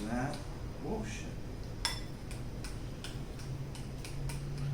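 Spoon scraping and clinking in a bowl while mixing watery pizza dough, a run of sharp, evenly spaced ticks over a steady low hum, with some voice early on.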